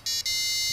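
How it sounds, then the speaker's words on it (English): An electronic buzzer on an expansion board plays a short burst of the Darth Vader theme, a sharp, loud, steady tone that briefly dips before holding on. "when I press the button, it plays a sound on the buzzer."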